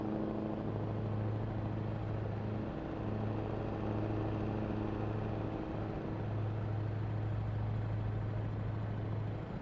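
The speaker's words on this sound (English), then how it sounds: "You could hear that car going by." A car passing in Euro Truck Simulator 2 on a motorway drive, its whoosh swelling and fading over the steady low drone of the truck's engine, with no voices.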